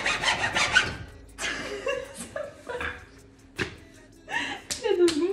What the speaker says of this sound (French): Ensuite, on a scié à la main